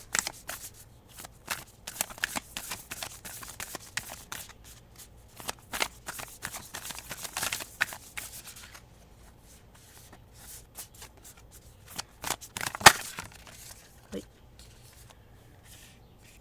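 Tarot cards being shuffled and drawn by hand, repeated crisp riffling and flicking bursts with a sharp snap near the end, close and moderately loud, with soft talk in places.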